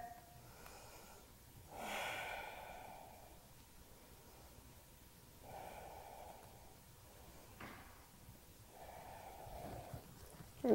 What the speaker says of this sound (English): we'll do three breaths here.